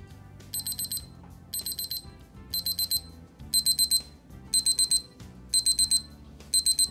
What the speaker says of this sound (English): And there you go, that's the alarm.